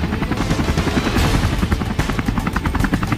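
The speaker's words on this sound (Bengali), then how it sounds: "হেলিকপ্টার এসে গেছে।" A helicopter arriving gives a loud, close, steady rapid rotor thudding with a broad roar, continuous throughout.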